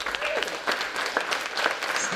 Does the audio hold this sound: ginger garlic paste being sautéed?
no